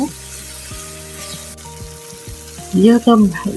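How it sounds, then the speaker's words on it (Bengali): Meat sautéed with spices in a pan gives a steady, close sizzle with stirring scrapes, and a voice cuts in briefly near the end. "ভালো করে এখন একটু কষিয়ে নিব।"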